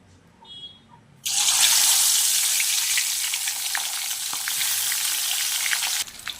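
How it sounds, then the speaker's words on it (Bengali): Pabda fish dropped into hot mustard oil in a kadai erupts into a loud, steady sizzle after a near-quiet start. It crackles on for about five seconds, then cuts off abruptly. "তেল গরম হয়ে গেছে একে একে মাছগুলো দিয়ে দেবো"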